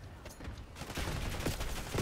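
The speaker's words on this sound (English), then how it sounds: "I've got 3 people shooting me from the back and 1 from the front" Enemy gunfire crackles in Black Ops 6 with several players shooting from front and behind, giving dense overlapping bursts and scattered rattling shots at low to moderate level.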